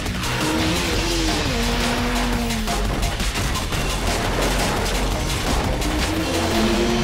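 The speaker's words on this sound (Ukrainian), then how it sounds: "Ламбо." A Lamborghini in Need for Speed: Most Wanted roars loudly and continuously, its engine pitch rising and falling through gear shifts, while tires squeal in sustained skids and rapid impact-like crackles stream over the engine noise.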